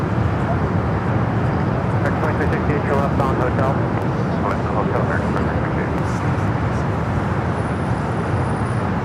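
An airplane at Los Angeles LAX airport, a loud continuous jet engine roar that holds steady and close, with broadband rumble throughout and a faint high whine near the end.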